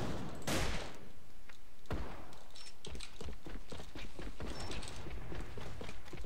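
Rifle gunfire in a video game, a run of rapid shots and bursts with clicks and crackle, dense and moderately loud throughout, with no voices heard.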